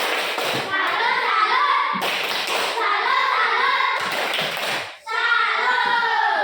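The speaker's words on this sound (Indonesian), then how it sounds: "Tepuk tangan dulu buat kelompok satu. Tepuk salut." A classroom of children performs a rhythmic 'tepuk salut' clapping chant for a student group, with sharp patterned claps in repeated bursts of about two seconds under voices calling along, close and fairly loud.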